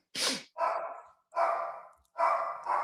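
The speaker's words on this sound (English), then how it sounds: "Sorry for my dog barking." A dog barks indoors, four loud, close barks in quick succession with short pauses between them, with no other sound.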